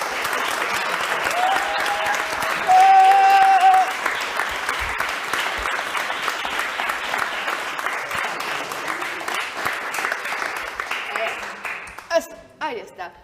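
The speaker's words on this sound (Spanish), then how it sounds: "quiero pedir un fuerte aplauso para recibir a Mariano Chicho Frumboli." Sustained audience applause fills a hall welcoming a tango dancer onto a stage, a dense wash of many hands clapping steadily for several seconds before tapering off near the end, with a brief whistle-like tone early on.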